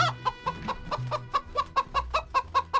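Chickens clucking repeatedly at a farm, a steady run of short, close, punchy clucks at a regular pace with low rumbling noise underneath.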